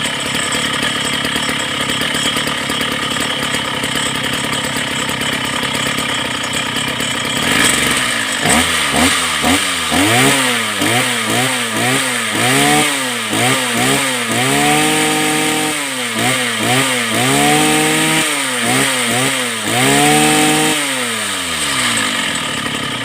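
A Mitsubishi TB43 brush cutter engine idles with a steady buzz, then revs repeatedly to full throttle in loud rising and falling bursts, each rev held briefly before dropping back.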